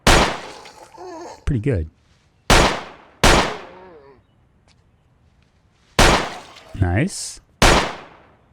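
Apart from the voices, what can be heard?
gunshots in Project Zomboid video game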